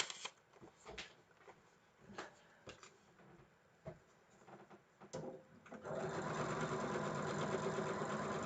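A sewing machine stitches pieced quilt blocks in a few short bursts with pauses of quiet handling between them, then runs steadily and a little louder for the last couple of seconds. No one speaks.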